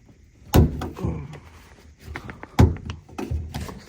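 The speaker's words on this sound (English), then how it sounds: "So you notice these for the door handle on the Tundra, we're gonna pop these up." Trim covers pried up from the door handle of a 2024 Toyota Tundra, with two sharp plastic pops about two seconds apart, surrounded by quieter clicks and handling noise up close.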